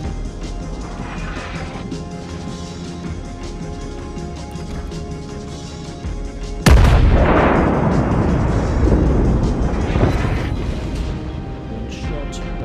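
A single heavy boom from a battleship's main guns firing in World of Warships, loud and close, breaking a steady low engine and sea hum and decaying into a long rumbling tail.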